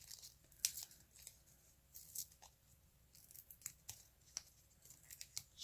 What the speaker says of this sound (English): I'm just gonna like tear it out and use it as an embellishment at the bottom